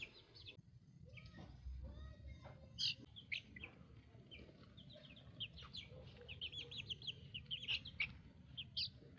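Month-old mixed-breed chicks, partly Barred Rock, peep in a backyard flock, with many faint high chirps scattered over a low background rumble and occasional clucks.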